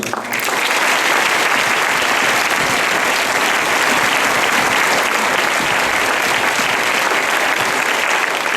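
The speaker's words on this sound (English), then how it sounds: "Can we do one more round of applause for all of our speakers?" Sustained, dense applause from a crowd at a Naval Academy Prep School Class of 1967 gathering, loud and steady throughout with no break.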